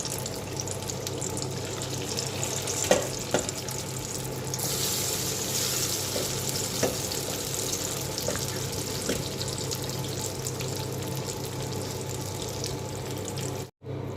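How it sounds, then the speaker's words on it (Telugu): Marinated chicken pieces fry in hot oil over a medium flame, a steady, even hiss and bubble that runs throughout with a few faint clinks, ending in a brief dropout. "ఆయిల్ కాగిన తర్వాత ఇలా కలిపి పెట్టుకున్న చికెన్ అన్నింటినీ ఒక్కొక్కటిగా వేసుకుని వేయించుకోవాలి"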